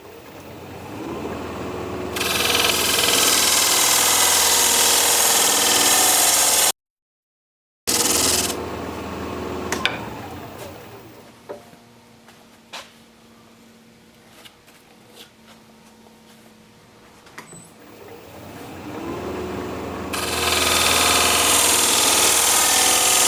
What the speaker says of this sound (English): Use this diamond point tool to straighten up the sides of the tenon.